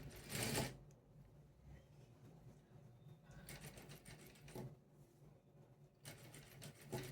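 A sewing machine stitches a blouse sleeve in a tailoring session, quiet mechanical whirring in short runs with pauses between them, close but faint, with a few louder bumps.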